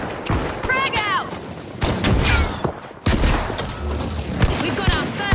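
Gunfire and a frag grenade blast in the video game The Finals: close bursts of shots, then a sudden loud explosive crack near the middle, with chirping game effects and a voice talking throughout.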